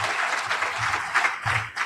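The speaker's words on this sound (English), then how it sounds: "So let's give him a round of applause" An audience at a district conference gives a speaker a full round of applause, a thick, continuous clatter of many hands at close range, with no talking on top.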